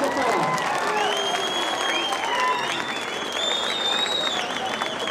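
Sustained audience applause fills the hall, dense and steady clapping with some cheering and whistle-like tones layered on top, loud and continuous.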